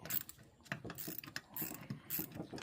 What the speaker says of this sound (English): We'll take the ratchet to it and make sure nothing's bonding or cross threading